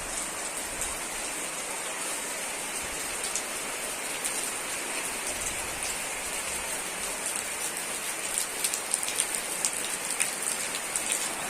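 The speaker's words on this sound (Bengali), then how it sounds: "এই দেখুন আবার ঝাঁকিয়ে এলো বৃষ্টিটা" Heavy rain pours down in a dense, steady roar of drops hitting surfaces close by, with no letup and no voices.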